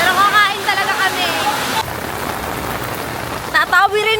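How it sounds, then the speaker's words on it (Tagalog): Heavy rain pours down in a dense, continuous hiss, with people talking loudly over it at the start and again near the end. "Sobrang lakas ng ulan."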